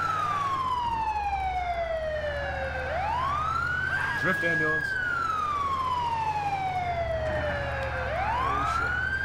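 An ambulance siren in the GTA IV fire fighter mod video game wails in long, repeated up-and-down sweeps, loud and continuous over engine rumble, with a brief spoken word.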